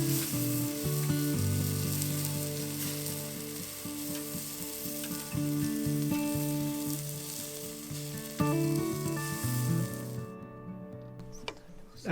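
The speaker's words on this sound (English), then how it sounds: "The other half is a spicy sausage called boerewors." Boerewors, a spicy South African sausage, sizzles and spits in a pan over a winter campsite fire, a steady close frying hiss running throughout with faint background tones and a brief clatter near the end.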